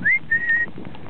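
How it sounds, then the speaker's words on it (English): A person gives two quick, sharp whistles outdoors on a chilly, rainy evening to call a dog. The first rises briefly and the second holds steady, loud and close. "Just a quick whistle."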